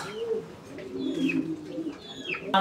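Magpie and Danish pigeons coo in low, rolling murmurs close by, with a few faint chirps over the steady cooing and a sharp knock at the end.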